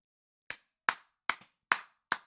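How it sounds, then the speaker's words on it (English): Five separate sharp claps sound close and dry at a slow, slightly uneven pace, each a crisp isolated snap against silence. "Round of applause, I guess."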